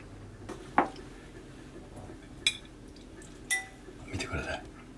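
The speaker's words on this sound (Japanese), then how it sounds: "お皿に盛り付けていきますよ。" Plates and cutlery clink while Lyonnaise salad is plated in a kitchen, with three or four sharp, separate knocks and scrapes over a low, steady room hum.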